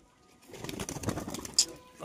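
Desi Giribaj pigeons in a small enclosure give soft, low cooing pulses at close range, followed by a sharp brief rustle or flap near the end.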